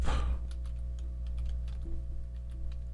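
Someone types a project name on a computer keyboard, producing a short run of light, quick key clicks over a steady low hum.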